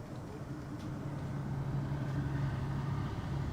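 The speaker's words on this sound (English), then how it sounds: "Oh, the truck's gone past 5 seconds too late for you, Alex." A large truck rumbles past a lawn bowls rink during a national mixed pairs event, a steady low engine drone that builds slightly, moderately distant and without talk.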